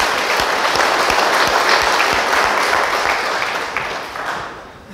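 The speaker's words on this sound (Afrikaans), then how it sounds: "Kom ons gee vir die Here net 'n lekker hande klap vanoggend" A church congregation at a Sunday service claps their hands in sustained applause, loud and full at first, then gradually thinning and fading toward the end.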